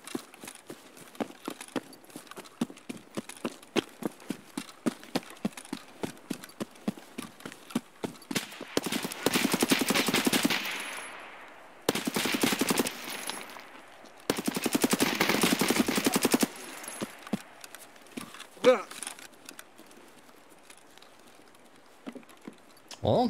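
Sustained automatic mag dumps ring out in Escape from Tarkov at the Resort, three long loud bursts of rapid fire separated by short gaps, preceded by quick rhythmic footsteps.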